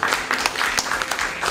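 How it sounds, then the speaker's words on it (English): A school audience applauding an academic decathlon team: steady, fairly loud clapping from a crowd, continuous and dense, with no speech over it. "So, round applause for our academic decathlon team."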